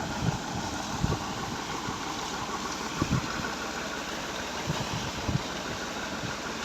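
A Made in England 135 tractor engine idles steadily with a continuous low rumble, punctuated by a few soft knocks and thumps, with no voices present.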